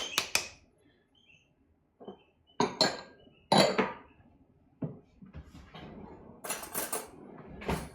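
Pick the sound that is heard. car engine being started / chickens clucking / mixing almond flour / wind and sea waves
mixing almond flour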